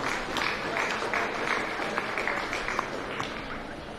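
A crowd applauds steadily at a county fair swine show after the middleweight breeding gilt class, with dense, even clapping and a few sharper claps throughout.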